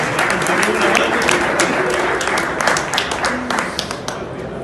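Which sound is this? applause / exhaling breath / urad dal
applause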